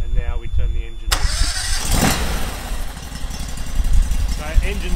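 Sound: Panther water jetter engine starting

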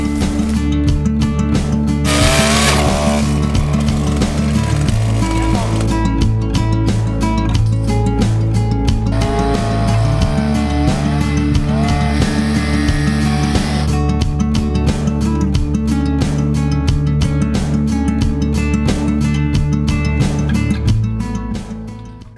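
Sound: drilling a hole with a larger power drill

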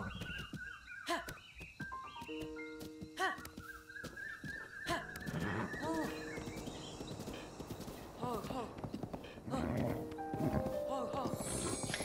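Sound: horse neighing in video game Zelda: Breath of the Wild

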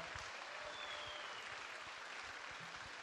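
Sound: audience applause

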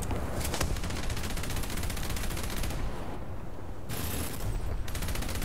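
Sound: 20mm Oerlikon cannon firing in the video game War Thunder

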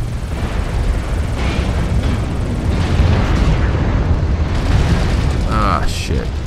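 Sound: mech being shot, video game MechWarrior Online

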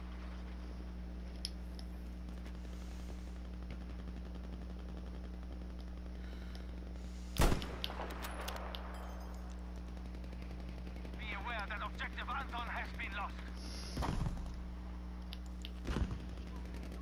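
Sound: gunfire and explosions in the video game Battlefield V

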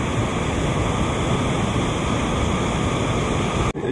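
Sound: jungle waterfall flowing, Teluk Bahang, Penang

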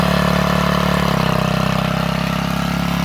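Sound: gas generator engine bogging down as alternator charges battery

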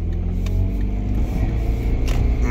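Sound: Lexus LS car pulling away

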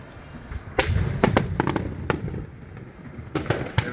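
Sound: fireworks going off

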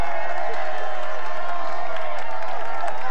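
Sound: roadside crowd cheering at Tour de France

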